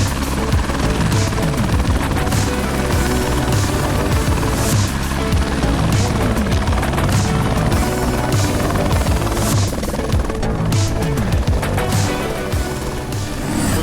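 Loud, close helicopter rotor and engine roar, steady and continuous, after dropping mountain bikers off at a steep trail in New Zealand.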